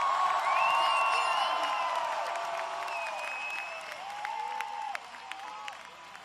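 A concert crowd at a show in Hannover, Germany, applauds and cheers, with whoops and shouts rising over a broad wash of clapping that gradually thins out.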